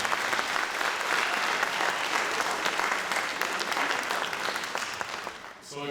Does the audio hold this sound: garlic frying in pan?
no